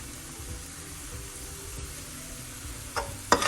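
Flour and oil roux cooking over low heat in a pan for Cajun shrimp and grits, a steady soft sizzle running throughout, ending in a couple of brief scraping clatters from stirring.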